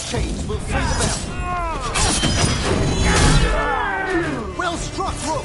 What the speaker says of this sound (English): Shattering those chains will free the bell.